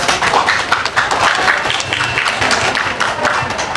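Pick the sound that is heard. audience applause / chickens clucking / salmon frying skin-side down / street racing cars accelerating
audience applause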